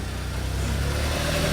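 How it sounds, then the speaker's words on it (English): A Smart car engine runs steadily with its engine cover off, a close, continuous low idling drone with a faint mechanical rumble and no talk. "Could hear all the engine noise because we haven't got the engine cover on"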